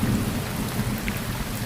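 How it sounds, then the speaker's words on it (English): Thunder rumbles during a heavy rainstorm on Canon Beach, Oregon, a continuous low roar under dense steady rain noise, loud and enveloping with no voices. "The thunder's rumbling,"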